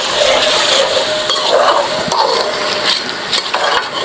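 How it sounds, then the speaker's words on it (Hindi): Chicken brown karahi is stirred in a sizzling pan, a spoon scraping and clinking against the metal steadily and close up over constant frying hiss. "इसको अच्छी तरह मिक्स करना है आपने।"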